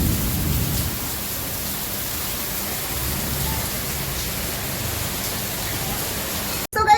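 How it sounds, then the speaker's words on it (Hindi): Heavy rain with thunder, a dense constant roar of downpour with a low rumble at the start, steady and loud throughout until a brief break at the very end. "बारिश हो गई है चालू, और वो बड़ी तेज, बादल भी बहुत ज़्यादा गरज रहे हैं"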